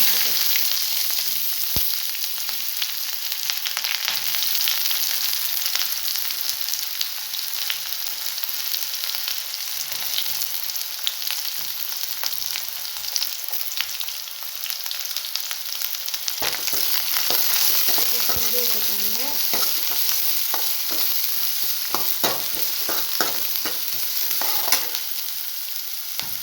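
Curry leaves and chopped onions fry in hot oil in a pan for kadala curry, a continuous crackling sizzle with intermittent scraping stirs, the frying growing busier and more bubbly after the onions go in.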